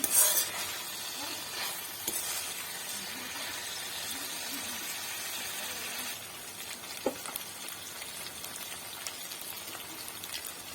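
Brinjal curry is stirred and mixed in a pan, with soft scraping and gentle sizzling, a sharper clack near the start and another midway, steady and close.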